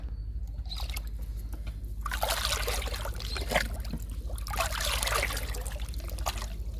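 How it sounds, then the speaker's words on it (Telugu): Liquid fertilizer is poured onto tomato plants growing in tubs, a rushing, splashing pour that comes in two main bursts near the mic, with no talking. "లిక్విడ్ ఇస్తున్నాను టమాటా మొక్కలకి"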